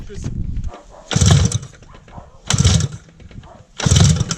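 A homemade dune buggy engine with one dead cylinder cranks and catches in three loud, rough bursts, each followed by a lull, with talk heard in between.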